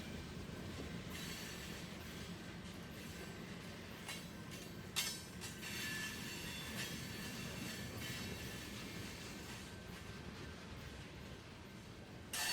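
A freight train with empty placarded cars passing steadily, with continuous rumbling wheels, a faint clickety-clack and intermittent high wheel squeals, heard from a moderate distance without talk.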